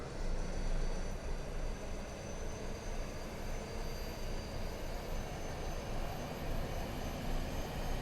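A steady whooshing roar from an Airbus A320neo auxiliary power unit running in a flight simulator, heard from outside, with thin high tones riding over a constant broadband rumble, no talking.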